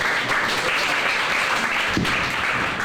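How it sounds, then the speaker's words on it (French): Steady, dense applause from an audience at a trade fair, filling the space evenly for a few seconds with no break. "Vos applaudissements surtout"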